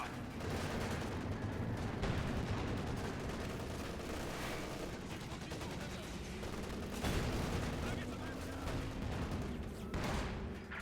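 Video game battle on the Nexus map: machine gun bursts and barrage fire pound continuously, a dense wall of booming explosions and rattling shots with brief louder impacts, heavy and unbroken throughout.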